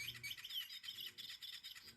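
A catnip-scented electronic bird toy for cats chirps in quick, bright, repeated tweets, fairly faint and steady throughout, with no talking.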